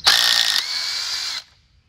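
A Craftsman V20 cordless impact driver driving into hardwood, a loud close high-pitched motor whir with a rattling burst at first, then a steady spin for about a second before stopping.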